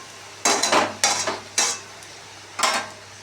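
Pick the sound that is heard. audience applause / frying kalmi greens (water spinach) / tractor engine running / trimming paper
frying kalmi greens (water spinach)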